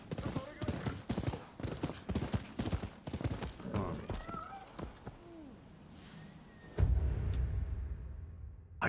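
Horse hooves clip-clop in the samurai video game Rise of the Ronin, a rapid rhythmic trot under a voice, fading out and giving way to a low rumble near the end.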